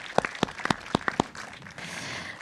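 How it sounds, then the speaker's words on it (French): A handful of sharp hand claps, about six spaced irregularly over two seconds, then a soft murmur of room noise. "Je pense qu'on peut applaudir Hélène pour son exercice."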